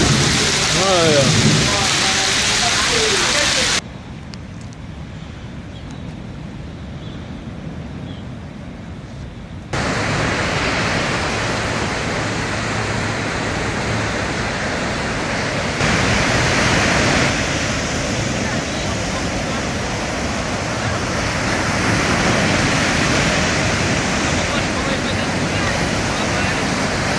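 Storm waves crash and surge loudly and continuously along a shore during a strong storm, with a brief quieter lull before the roar swells again; people talk nearby over the surf.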